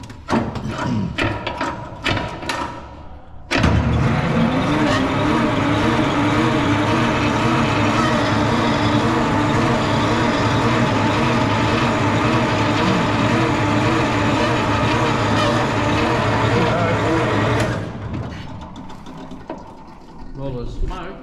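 An Allis-Chalmers HD15 crawler's engine is cranked and fires into a steady, loud mechanical running roar with a rhythmic clattering pulse that holds for about fourteen seconds before easing off, with a brief quieter spell before it begins.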